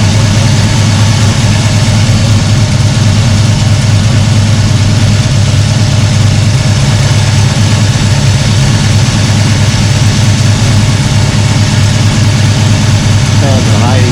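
A carburetted engine idles steadily and loudly at about 1,000 to 1,100 rpm with a low, even rumble that holds throughout without revving.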